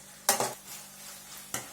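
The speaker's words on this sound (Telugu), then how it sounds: "పచ్చివాసన పోయేంత వరకు ఫ్రై చేసుకోండి." Ginger garlic paste and curry leaves fry in a pan with a low, steady sizzle, broken by a couple of quick spoon stirs scraping close by.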